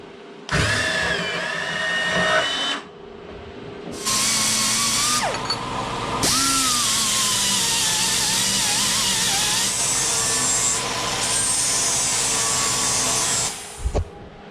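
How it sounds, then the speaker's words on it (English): A bandsaw cuts through a 1.5 inch piece of metal during a weld repair on a cracked attachment, running in several loud sustained bursts of steady whining cutting noise separated by brief pauses, with no talking. "Don't think I was gonna abandon my nice bandsaw here. It still has its place, just like this."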